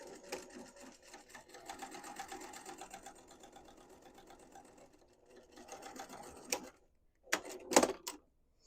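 A home sewing machine runs a quarter-inch seam through fabric in one steady buzzing stretch, followed by a pause and a few short clicks and handling noises, heard close but fairly quiet.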